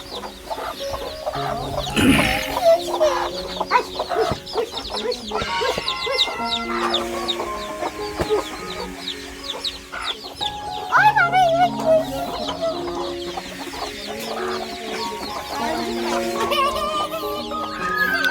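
Several chickens cluck and chatter nearby, overlapping calls in a busy farmyard mix with occasional louder squawks.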